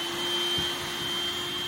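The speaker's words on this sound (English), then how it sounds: "Who needs Robo Boy when you forgot you have a handheld vacuum?" A handheld vacuum cleaner roars steadily and close up while sucking spilled potting soil off the floor, a constant whine with slight rattles of debris.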